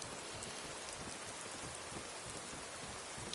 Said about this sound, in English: This is the kind of rain that I like. Just nice, steady.